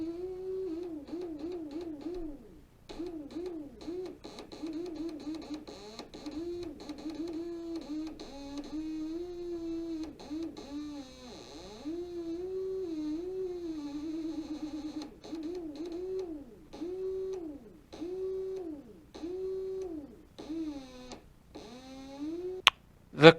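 A small solar motor, built for about half a volt and here run on three volts, drives a homemade instrument. It gives a close, quiet, wavering buzzy hum that rises and falls in pitch in steady repeating cycles, with small ticks, and ends in a sharp click.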